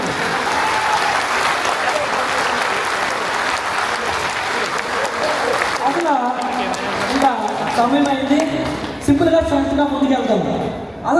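A seminar audience at a boot camp event claps loudly and continuously, a dense roar of applause that thins toward the end while a voice speaks over it.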